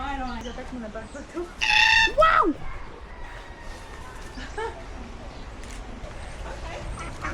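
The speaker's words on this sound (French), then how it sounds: "La poule de Nouvelle-Zélande." A loud chicken call rings out early in New Zealand, followed by quieter clucking and distant bird sounds, with people talking nearby.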